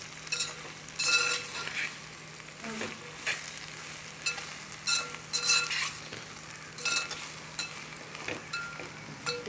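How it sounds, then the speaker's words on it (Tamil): Okra (lady's finger) sizzles in a hot pan while being stirred, with repeated bursts of spatula scraping and clinking over a continuous frying hiss, close by and fairly quiet. "வெண்டைக்காய் நல்லா வதக்கணும். தீயை கொஞ்சம் ஜாஸ்தி வச்சுக்கலாம்."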